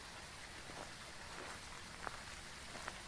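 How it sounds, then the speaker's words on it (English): Heavy rain falls in Phasmophobia as a soft, even, hissing wash, faint and continuous, with a few small taps or footsteps breaking through now and then. "Got heavy rain too"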